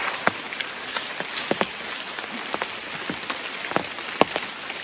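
Rain falling on a forest floor during a red mushroom foraging outing in Thailand, heard as steady soft hiss with scattered sharp drips and taps spread through the clip, fairly close, with no talking.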